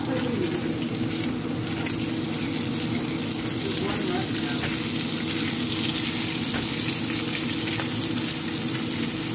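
Bacon frying in a pan on a stovetop, a steady close sizzle and crackle with scattered pops, and people talking quietly over it.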